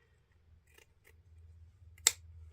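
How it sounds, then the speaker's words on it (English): Scissors trim ribbon tails on a handmade Christmas wreath, giving a single crisp snip near the end after a few faint rustles of ribbon, close and quiet, with no talking. "when you're trimming your ribbon tails"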